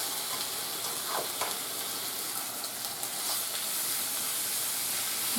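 Chicken pieces frying in hot oil in a pan for garlic butter chicken give a steady, dense sizzle and hiss, with a few brief sharper pops and scrapes, close and continuous throughout.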